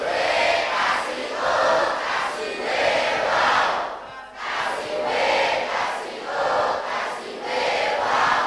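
Students at a university orientation for a communication studies program shout together in enthusiastic bursts, a loud group of young voices rising and falling in several waves, with a brief dip near the middle.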